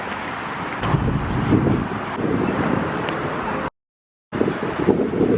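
Wind on a breezy morning outdoors in a city gusts across the microphone as a loud, rumbling buffet, broken by a brief cut to silence before resuming.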